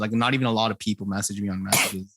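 A quick, sharp sneeze bursts out right at the end of someone's casual talk in a podcast conversation, close to the microphone.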